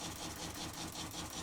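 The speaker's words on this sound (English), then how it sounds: "That is the sweet sound of a pump and dishwasher doing their job and draining." A dishwasher's drain pump running in a converted bus with an off-grid bathroom, giving a steady mechanical hum with a faint whir throughout and no talking.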